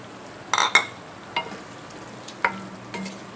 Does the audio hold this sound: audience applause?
no